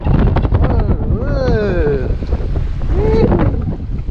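Steady wind buffets the microphone on a fishing boat off Hawaii's Big Island, a constant loud rush throughout, while a voice speaks with rising and falling tones over it.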